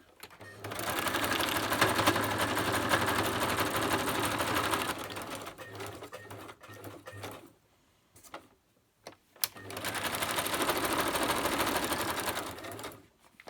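A sewing machine zigzag stitches around a junk journal snippet in two loud, steady runs of rapid mechanical whirring separated by a pause with a few clicks and handling noises.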